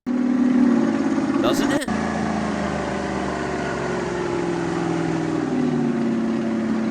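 A British Alvis Stalwart amphibious military truck engine runs with a steady, throaty droning hum and a slight pitch rise near the end; a voice briefly speaks over it early on.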